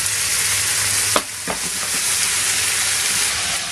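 Garlic and a spoonful of marinade sizzle hard in a hot pan of venison stir fry with courgette, a loud, dense, continuous hiss broken by a couple of brief utensil knocks.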